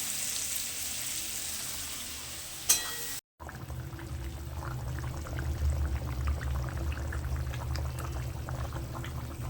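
Bhola fish fries in oil in a pan, making a low, steady bubbling sizzle. It starts after a short pouring splash and a brief cut, then continues evenly and softly with no voices.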